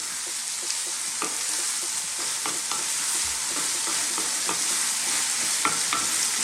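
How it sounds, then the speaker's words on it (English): Sweet pepper going into a frying pan of shrimp, with a steady bright sizzle and scattered sharp clicks of a utensil stirring against the pan. "At this stage I'm going to add just a little bit of sweet pepper"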